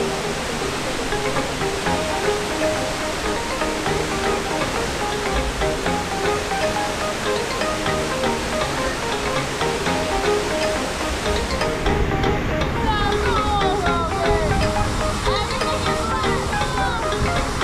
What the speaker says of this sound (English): This is Sukhumpool Falls. It's really big and really wet.